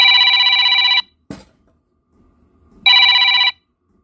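A phone rings in two loud electronic trill bursts about a second each, separated by a quiet gap with a brief knock, close to the microphone.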